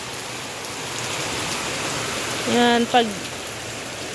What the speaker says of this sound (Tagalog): At medyo malakas na naman ang ulan guys.